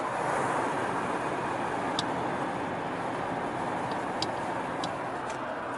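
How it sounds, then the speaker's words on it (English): A loose truck door rattles while driving, heard as a few sharp light ticks and clatters over a loud, steady broadband road and engine rumble inside the cab, with no talking. "we gotta get that door fixed though, because that whole sound is annoying as hell"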